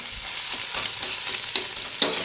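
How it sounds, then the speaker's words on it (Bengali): Onion, tomato and green chilli stirred in a hot pan, a soft continuous sizzle with spoon scrapes and two sharp clinks near the end, close up and without voices. "পেঁয়াজ টমেটো কাঁচা লঙ্কা পুরো মিশিয়ে ফেলবো"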